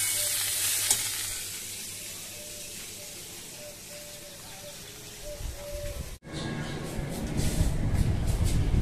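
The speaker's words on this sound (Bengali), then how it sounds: "পটলটা ভাজা বসিয়ে দিয়েছি" Pointed gourd fries in a pan at home, a soft steady sizzle under a faint repeating beep, then after a brief cut the frying returns louder and more crackly, with no talk.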